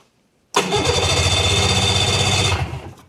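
A snowmobile engine on full choke catches and roars to life right away, running loud and steady at a fast idle for about two seconds before easing off, close by, with no talking.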